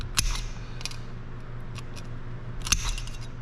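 Snips cut reliefs into a rod bearing groove template during a 1920 Nash 687 engine rebuild: three crisp, close cuts spaced apart over a low steady hum.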